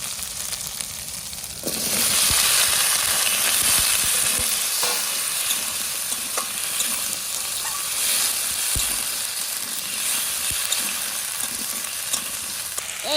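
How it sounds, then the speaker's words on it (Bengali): Potatoes tossed into a pan with ginger and green chili paste, the sizzle jumping to a loud, dense crackle, with occasional sharp clicks and scrapes of stirring over the steady frying hiss. "এইবার আলু দিয়ে দেবো।"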